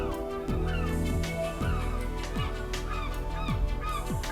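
Seagulls call repeatedly with descending cries, sounding fairly close, over a steady low background hum and outdoor noise.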